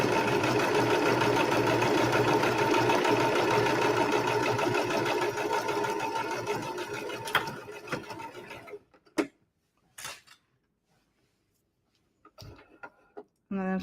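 A sewing machine runs steadily while stitching a fabric tissue holder, a close, loud continuous mechanical whir for several seconds before stopping, then a few short clicks and bumps of handling.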